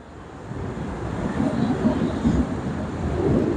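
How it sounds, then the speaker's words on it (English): Strong wind gusting over open water at sea during a boating outing, a steady broad roar that swells and surges throughout, with low rumbling buffeting close to the microphone. "The wind is blowing like hell."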